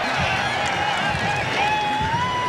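Football stadium crowd in Stillwater roaring after a touchdown, a steady dense wall of cheering and whistles heard from within the stands, loud and unbroken throughout.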